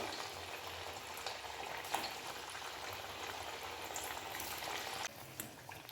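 Semolina and milk sweets deep-frying in hot oil, a steady dense crackling sizzle that holds throughout with small pops, close and fairly quiet, no talking.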